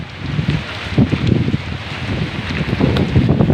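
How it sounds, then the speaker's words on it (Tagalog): Strong, gusty typhoon wind in Masbate, Philippines, roars steadily against the microphone, with low buffeting rumble and rustling throughout; no talking. "sobrang lakas ng hangin talaga"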